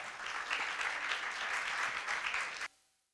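An audience claps in a steady, dense round of applause for about two and a half seconds, then stops abruptly, leaving a quiet room.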